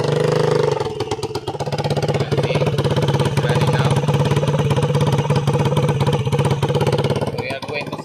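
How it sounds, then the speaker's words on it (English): A diesel generator engine runs steadily and loudly up close, its low throbbing drone holding an even pitch throughout with a rattling mechanical edge. "That is the output of this diesel generator."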